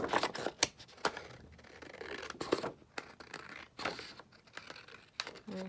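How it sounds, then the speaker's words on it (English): Scissors snipping a paper edge strip for craft work, a series of sharp close cuts and crisp paper rustles spaced irregularly across several seconds. "cut this one down."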